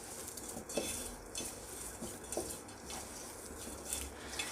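Soaked sabudana with rock salt and peanuts being mixed for vada in a bowl, quiet scraping and stirring with light clinks at an irregular pace.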